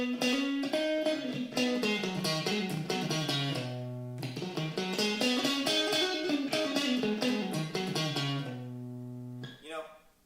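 An electric guitar plays a major pentatonic scale in a blues context, with continuous runs of single notes rising and falling, steady and close, with no talking and a brief pause before the phrase repeats.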